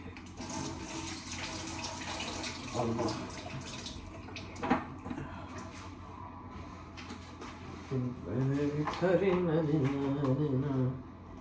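Tap water runs and splashes as an avocado is rinsed at a kitchen sink, with a person talking over the water.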